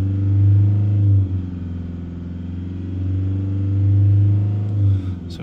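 A Toyota Hilux engine, diagnosed with too-low pressure, is held at raised revs near 3000 RPM. It gives a steady, close mechanical hum with gentle rises and dips, then eases off near the end.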